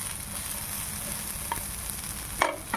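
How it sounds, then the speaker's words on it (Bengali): Bottle gourd peel frying in oil, a steady close sizzle with a couple of light utensil knocks near the end. "আমাদের লাউয়ের খোসাটা বেশ ভালো করে ভাজা হয়ে গেছে।"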